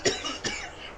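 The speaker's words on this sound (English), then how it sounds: "Sudden coughing." Two quick, close coughs, one right after the other, with nothing else around them.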